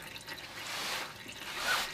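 Transfer case oil drips from the fill hole of a 4WD transfer case, soft scattered drips and a faint trickle, close and quiet with no talking.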